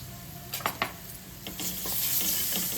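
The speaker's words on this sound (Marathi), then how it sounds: "ती पण छान परतून घ्यायची तेलात" Ginger garlic paste frying in oil with poppy seeds in a pan, a soft steady sizzle with a few spoon scrapes and knocks against the pan, growing slightly louder toward the end.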